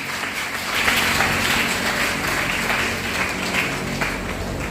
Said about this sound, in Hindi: पवन जी एक बार खड़े होके आपका जोरदार तालियों के साथ स्वागत करेंगे